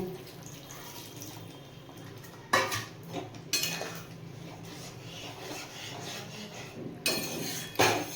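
A spoon stirs a vegetarian yogurt potol curry with added water in a metal pan, giving quiet scraping and rubbing strokes with a few louder clanks, close and without talking.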